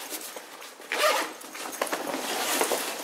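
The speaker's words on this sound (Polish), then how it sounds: "łatwo się zapina" Zipper closing on a Wisport Whistler 35 cordura military survival backpack, a few quick rasping pulls close up, alone without talk.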